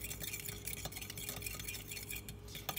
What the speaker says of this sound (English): Then we're going to add in the melted butter with the tablespoon of milk. Okay, just mix it a little bit.